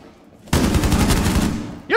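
A rapid burst of automatic gunfire in the video game Rainbow Six Siege, loud and close, rattling for about a second before cutting off, with a brief voice right after.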